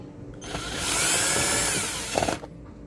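A cordless power drill whirs for about two seconds while driving screws into a combination switch and two-gang outlet, rising to a steady high whine, then clicking and stopping, up close and with no talk.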